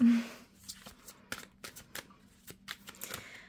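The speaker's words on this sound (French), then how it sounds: "je vais disposer les cartes" Tarot cards are handled and laid out on a table in a series of quick, soft papery slaps and flicks, fairly close and quiet, irregular in rhythm, with no speech.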